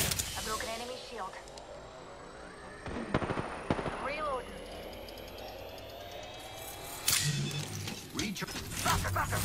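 Rapid gunfire bursts and impacts in the video game Apex Legends, sharp cracks in clusters over sweeping effects, with speech throughout.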